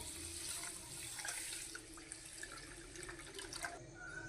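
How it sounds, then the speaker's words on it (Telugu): Water poured into a vessel over rice to soak it for chicken dum biryani, a steady faucet-like splashing running throughout at moderate level with no talk. "వాటర్ పోసుకొని నానబెట్టేసుకుందాము"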